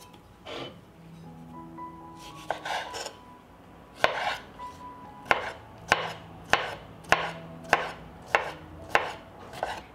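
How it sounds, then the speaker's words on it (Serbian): Pickled cucumbers are chopped finely with a knife on a board: a few scattered cuts, then a steady, evenly spaced series of crisp, close knife strikes. "I iseckat ću 3 kisela krastavca sitno."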